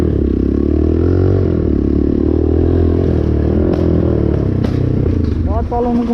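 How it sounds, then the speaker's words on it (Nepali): A Hero Splendor motorcycle engine runs steadily and loudly close by, with a constant low drone, some clattering and scraping, and a brief rev near the end. "हिरो छ क्या बाइक स्प्लेन्डर भयो नि"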